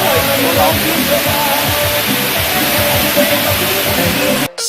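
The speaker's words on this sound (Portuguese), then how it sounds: "Então a gente só veio nessa cachoeira." A waterfall roars in a steady, loud broadband rush, continuous throughout, with faint voices under it before it cuts off abruptly at the end.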